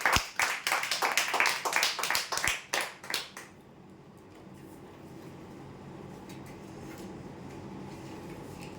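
Loud applause for winners at a prize draw, many hands clapping in a dense burst for about three seconds before fading into quiet room noise.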